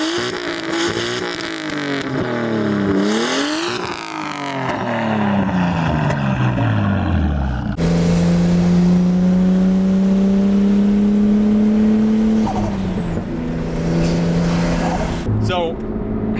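Nissan Skyline R32 GTS-T driving with its engine rising and falling through revs, then holding a steady drone at cruise, with a brief throttle blip near the end; voices are heard over the engine.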